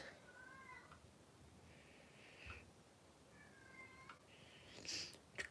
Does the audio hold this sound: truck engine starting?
no